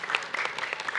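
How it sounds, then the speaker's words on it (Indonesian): Audience applause at an Islamic religious lecture, a dense, steady patter of many hands clapping close by, filling the whole short moment without talk. "Ustadz Maulana boleh tepuk tangan dulu dong"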